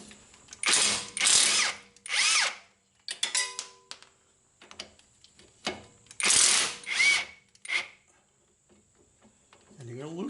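A power tool loosens the front strut bolts on a Chevrolet HHR in several loud, close, whirring bursts of one to two seconds each, separated by short pauses, with clanks and light ticking of the tool between runs.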